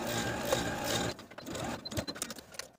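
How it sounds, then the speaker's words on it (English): A sewing machine basts a collar to a neckband on a Simplicity 8889 button-up top, with a steady mechanical whir that breaks into uneven stitching clatter and stops. "Then you can take it to your sewing machine and baste the collar to the neckband."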